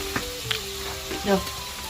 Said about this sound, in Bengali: দেশি ধনে পাতা দিয়ে বেগুনটা আমি ভাজা করে নিলাম